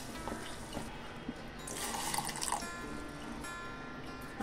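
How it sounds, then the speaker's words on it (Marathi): Cooked fresh pigeon pea grains are tipped into a large pot, giving a short wet, sloshing pour in the middle against quiet kitchen background, with no talking. "आता आपण हे दाणे मोठ्या पातेलीत ओतून घेऊया"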